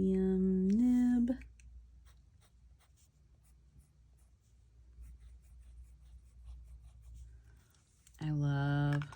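Medium nib fountain pen inked with Luckbringer scratching softly across paper, a faint continuous writing sound in a quiet room, framed by a person speaking at the start and end.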